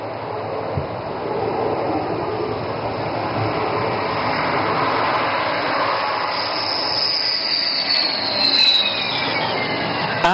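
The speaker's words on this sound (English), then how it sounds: "And touchdown. This is where Rafale excels." Rafale fighter jet touching down at an Indian Air Force air show, a loud sustained roaring rush of engine and air that swells slightly toward the end.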